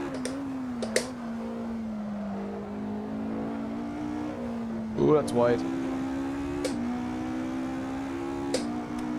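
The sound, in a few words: racing car engine revving in a sim racing game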